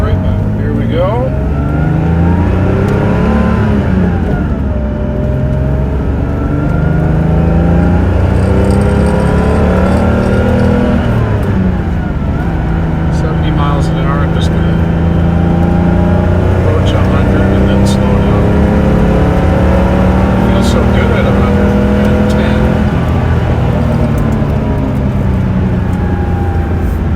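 A silver 1986 Porsche 930 Turbo's engine pulls through repeated rising and falling acceleration sweeps while driving on a road, a loud, steady drone heard from inside the car with people talking over it throughout.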